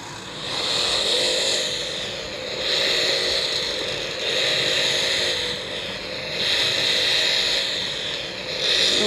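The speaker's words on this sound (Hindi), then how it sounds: "तो चलो इसका इंजन स्टार्ट करते हैं" A Bugatti sports car's powerful engine roars steadily, surging louder in repeated revs roughly every two seconds, with no talking.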